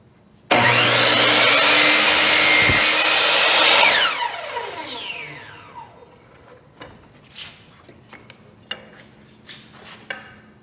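A power saw whines loudly through wood door casing molding, cutting a 45-degree angle, for a few seconds, then spins down, followed by scattered clicks and handling clatter.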